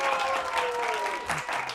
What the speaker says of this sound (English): we want to make a big round of applause for Can TV for putting this show together